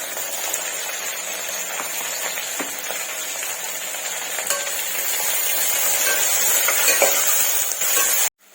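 A steady, dense sizzle of onions frying in a hot pan for mutton curry, loud and close, fading out abruptly at the end.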